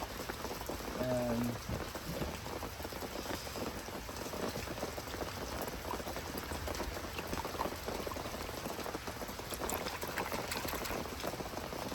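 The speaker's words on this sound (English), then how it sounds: "So now I'm gonna wash the roots." Roots of a creeping honeysuckle runner are rinsed under running water, a steady close splashing and trickling that continues throughout without a break.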